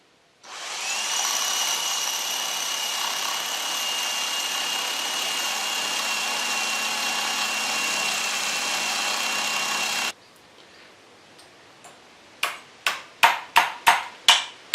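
A drill runs steadily through a Harrison M300 lathe apron part for about ten seconds, a loud sustained whine, then stops, followed by a quick series of sharp metallic taps close by.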